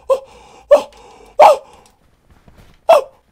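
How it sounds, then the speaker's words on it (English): A dog character barks in the video game Black Ops 4: four short, sharp barks, three in quick succession and one after a pause, close and loud with no talking. "I've turned into a dog."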